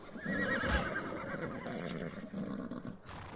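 Horse neighing and whinnying in the survival video game ARK: Mobile, a loud close call near the start that trails off into game ambience, with faint hoof clatter.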